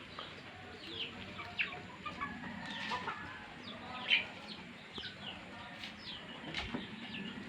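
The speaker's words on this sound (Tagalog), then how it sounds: "padami ng padami yung mga native na manok" Several native chickens cluck and chatter softly at a distance in a backyard, with scattered short calls over a low outdoor background hum.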